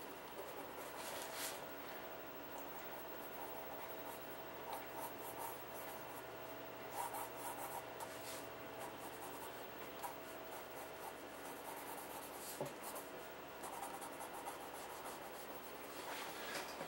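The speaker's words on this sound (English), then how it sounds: "Now I'm just drawing it all with the number 2 pencil." A No. 2 pencil sketching a portrait on paper makes a steady, close scratchy rubbing that goes on and on, with faint strokes and small pauses and no talking.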